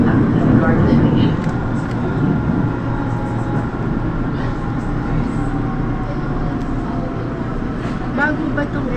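An LRT Line 2 light rail train runs between stations near Ligarda Station, giving a loud, steady interior rumble and hum with a faint rising whine, heavier at the start and constant to the end.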